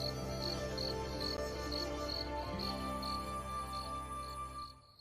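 A brown cricket in a hole chirps in regular, evenly spaced pulses over a steady low drone, faint and unbroken until it fades at the end.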